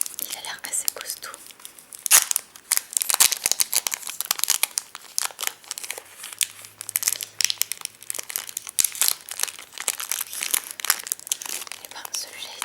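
A tough Pokémon Platinum booster pack wrapper is torn and crinkled open up close, giving sharp bursts of crackling foil and ripping with a faint whisper-like voice underneath.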